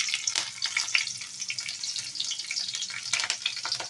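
Green chillies hit hot oil with lightly browned garlic, crackling and spitting in sharp uneven bursts over a continuous sizzle, close and fairly loud, no talking.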